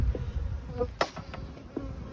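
Honey bees buzz around an open hive during a spring inspection, a low steady hum with a few sharper passes of individual bees close by.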